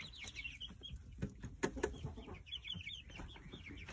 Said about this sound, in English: And then here's the little chickens.